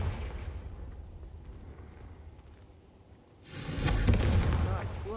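A Confringo fire spell blast from Hogwarts Legacy bursts out after a stretch of muffled low rumble, becoming a loud, sustained fiery roar with crackling hiss for the last couple of seconds.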